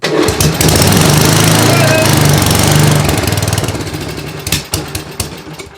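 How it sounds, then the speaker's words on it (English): An old 8 horsepower Tecumseh small engine is primed, choked and pulled to life, catching into a loud, steady, close-up run that rumbles on for several seconds before easing and sputtering slightly toward the end. "Let's give it a little bit of prime, and let's see what happens. It should fire right up."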